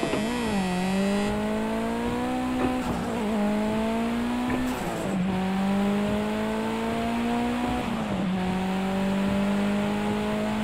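Race car engines in the Project Cars 2 racing game rev loudly and steadily, rising in pitch then dropping as gears change, repeating through the stretch with no rev-limiter stutter.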